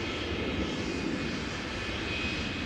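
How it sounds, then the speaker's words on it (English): An SAS Airbus A320neo arriving from Oslo at Amsterdam Schiphol roars steadily overhead, a loud, constant broadband jet engine rumble with no break. "A320neo from SAS arriving from Oslo. SAS flight 821."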